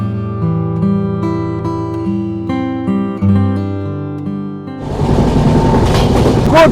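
A moving Indian Railways passenger train heard from inside: a melodic music passage plays first, then steady, loud broadband rolling rumble of the carriage takes over for the final couple of seconds.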